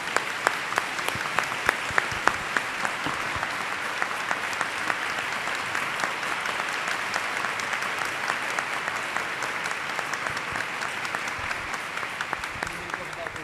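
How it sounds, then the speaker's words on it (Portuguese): Sustained applause from an audience at a formal honours ceremony, steady dense clapping lasting throughout with a few sharper individual claps standing out, fairly close and even in loudness. "Uma salva de palmas."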